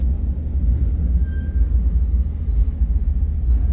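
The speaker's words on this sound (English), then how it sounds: "The train's going pretty slowly" Steady low rumble of a passenger train rolling slowly through Copper Canyon, Mexico, at an even pace, with faint squeaks riding over the continuous drone.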